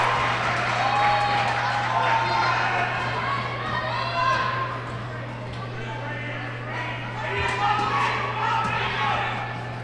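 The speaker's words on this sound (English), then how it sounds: "The crowd's going crazy for this one." A crowd at a girls high school basketball game between Morgan and Haddam Killingworth cheers and claps loudly after a layup, with whistles and excited shouts over a steady low electrical hum, and voices talking throughout.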